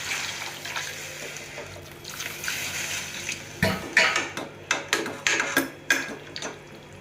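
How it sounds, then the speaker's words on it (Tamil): Water is poured into a pan of potato and capsicum curry with a soft, steady splashing rush, then a metal spoon stirs and clinks against the pan in several sharp knocks, close and moderately loud. "இப்போ கிண்டி விட்டு தண்ணி ஊற்றிக்கலாம்."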